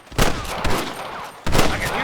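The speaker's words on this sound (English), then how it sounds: "I can hear more gunshots." Shots ring out in a Red Dead Redemption firefight, two or three loud close cracks with echoing tails, spaced over a couple of seconds.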